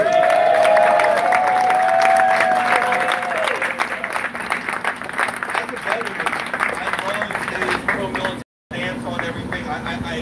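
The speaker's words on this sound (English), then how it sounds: "So I want everyone to give a round of applause to Omar right now." Fundraiser audience in a Torrance hotel applauding and cheering for congressional candidate Omar Navarro, a loud sustained burst of clapping with whoops, a voice calling out over it early on, fading slightly toward the end.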